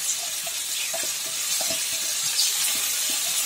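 Ginger paste hits a hot pan of frying tomatoes, giving a steady, close sizzle with faint stirring scrapes and no voices.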